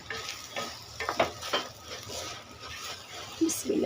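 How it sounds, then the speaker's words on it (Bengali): Roast being stirred in a pan with ghee, a spoon scraping repeatedly over steady sizzling and frying, close and moderately loud, with a few clinks of utensils against the pan. "এখন ঘি দিব আপুরা, কষা।"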